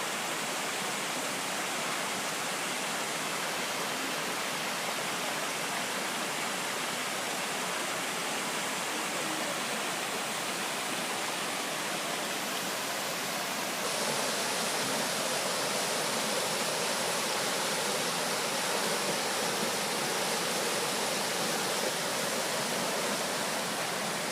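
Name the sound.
Indian Creek Falls waterfall in the Smoky Mountains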